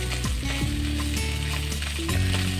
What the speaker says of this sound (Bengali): মাছগুলো প্রায় ভেজে নেওয়া হয়ে গেছে।